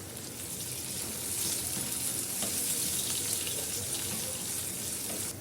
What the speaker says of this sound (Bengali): টমেটো একটা কুচি করে রেখেছি কেটে রেখেছি টমেটোটা দিয়ে দিলাম